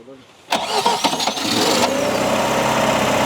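A car engine cranks briefly and catches on the first attempt, a sharp start that settles into a steady idle, with voices talking close by.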